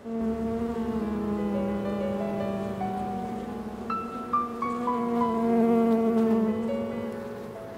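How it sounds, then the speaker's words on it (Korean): Honeybees swarm around a hive hidden inside a hollow tree trunk in an autumn forest, a steady, close, droning hum with shifting pitch as individual bees pass near, continuous and without voices. "꿀벌들 역시 월동 준비를 한다."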